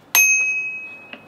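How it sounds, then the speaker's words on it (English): A small bell on a DYU C1 e-bike is struck once, giving a bright, close ding that rings out and fades over about a second, followed by a faint second tap. "we do need to tighten up this sweet little bell"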